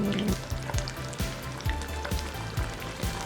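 Cheese sizzles and crackles in an oiled pan, with a busy popping hiss and a faint rhythmic low tapping underneath, close and continuous.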